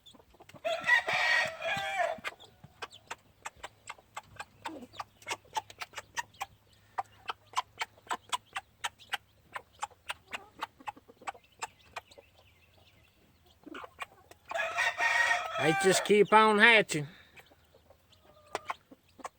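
Gamefowl chickens on a USA farm, with a rooster crowing loudly twice, opening and closing the stretch, between them a long run of rapid, evenly spaced clucks and peeps, and someone speaking briefly.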